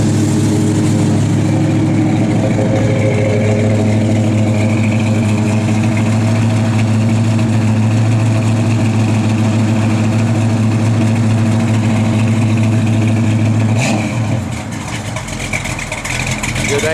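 A 1971 Plymouth Road Runner V8 idles steadily with a lopey cam, a loud low rumble running throughout, fading slightly toward the end.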